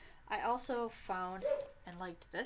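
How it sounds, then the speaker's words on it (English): A dog barks several times in short bursts, close by, while a person keeps talking over it. "Excuse my dog barking."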